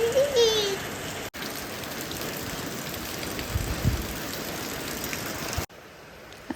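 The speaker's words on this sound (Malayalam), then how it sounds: "ചെറിയൊരു ചാറ്റൽ മഴ മാത്രമേ ഉള്ളൂ." Light drizzle falling outdoors, a soft, even patter of rain that carries on steadily, with a brief voice early on and a faint low rumble partway through.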